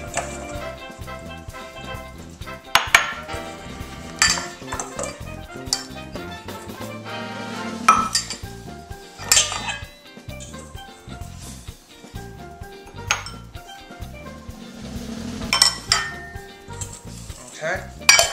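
Spice rub ingredients for Jamaican BBQ pork tenderloin being mixed in a bowl, with irregular clinks and scrapes of a utensil against the dish, bursts of clatter and brief pauses, close by, with a little voice in the background.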